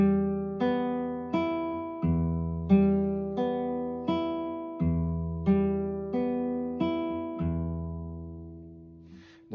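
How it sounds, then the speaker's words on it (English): Gentle fingerstyle guitar arpeggio played with classical right-hand technique, single notes plucked in an even repeating pattern and left ringing, soft and close with no voices. "So our arpeggio now will sound like this."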